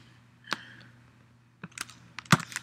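Keys clack on a computer keyboard in short bursts, a few isolated taps followed by a quicker cluster of typing, close and fairly quiet with no talking.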